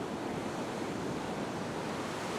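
Ocean surf rolls onto a fishing beach as a continuous, dense wash of breaking waves mixed with wind, fairly quiet and with no voices.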